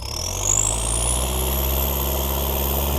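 A Mitsubishi L4708SP pickup truck idles through a modified exhaust with a deep, rumbling note, revving briefly near the start before settling into a steady, throaty drone.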